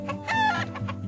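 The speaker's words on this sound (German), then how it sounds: "werde ich von einem Rudel Hühner angegriffen" Chickens cluck and crow in The Last Kingdom game, a short burst of several overlapping hen calls and a rooster-like cry, close and fairly loud, with no talking.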